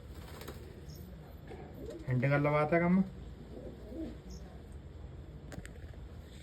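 A pair of pigeons, including a Naag-type female, coos in a low, rounded burst for about a second, standing out over steady background noise while someone talks nearby.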